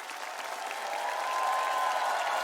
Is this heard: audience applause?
yes